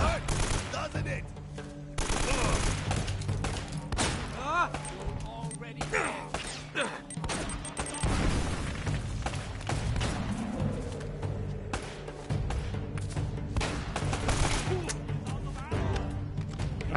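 Rapid bursts of gunfire and automatic weapon fire rattle through a firefight in the game Uncharted: Drake's Fortune, with heavy impacts and crashes mixed in, loud and nearly continuous for the whole stretch while voices call out now and then.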